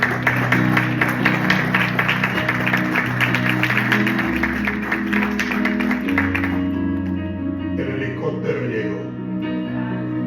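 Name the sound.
church congregation applause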